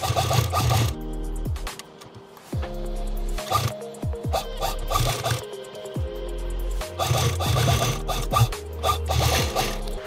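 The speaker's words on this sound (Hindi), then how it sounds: "मशीन की सिलाई ज़्यादा अच्छी होती है इसलिए मशीन से सिल रहा हूँ मैं" A sewing machine stitching around a batting glove under repair, running in several bursts of rapid mechanical whirring with short pauses and handling rubs between runs.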